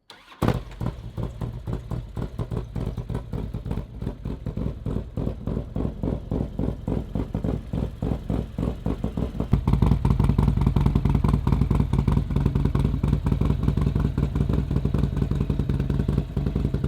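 Custom 2005 Harley-Davidson Road King with a D&D Fat Cat exhaust and Thundermax ECM idling after startup, a close, loud, steady deep thumping rumble that swells a little louder partway through.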